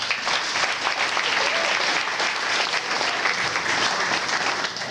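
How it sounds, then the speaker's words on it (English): A soccer banquet audience gives a sustained round of applause, a dense, even wash of clapping from a large room that holds steady for several seconds with no talking. "Can we give him another round of applause?"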